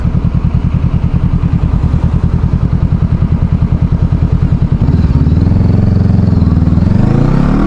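A Honda CBR500R motorcycle engine idles with a steady, rapid putter, then revs up into a louder, smoother roar that rises in pitch near the end.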